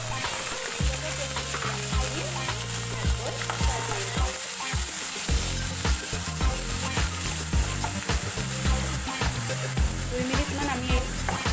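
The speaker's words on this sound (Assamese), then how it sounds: "আমি পিঁয়াজৰ পেষ্টখিনি ফ্ৰাই কৰি ল'ম।" Onion paste fries in a pan with a steady, close sizzle that runs throughout, mixed with looping background music.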